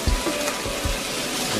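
Sea bass fillet frying in a pan, nearly cooked, a soft steady sizzle close by with a few dull knocks of the pan at the start.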